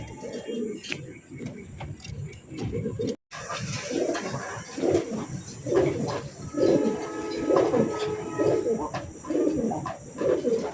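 Fancy racer pigeons cooing close by, with repeated throaty rolling coos overlapping in a steady rhythm, broken once by a brief silence.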